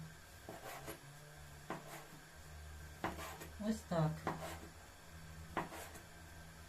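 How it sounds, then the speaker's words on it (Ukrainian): A knife chops through rolled-up pasta dough on a board in a few separate cuts, with light kitchen clatter while someone talks. "скрутили такий рулетик, і потім я беру і нарізаю"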